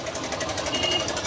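Idling Bajaj Pulsar 150 engine with a timing chain rattle, a fast, even metallic ticking over the engine's steady hum, heard up close without a break.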